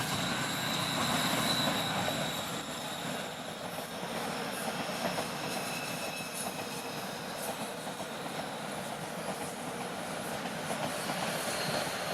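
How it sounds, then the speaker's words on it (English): A westbound subway train in Scarborough, Toronto rolls by with a continuous rumbling roar and faint metallic clatter, steady throughout with no talking. "there's another westbound train coming"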